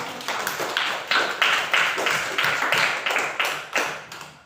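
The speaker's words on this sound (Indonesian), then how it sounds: "berikan lagi tepuk tangan sekali lagi" A short burst of hand clapping from a class during a lesson, rhythmic and fairly close, with roughly a dozen distinct claps in quick succession.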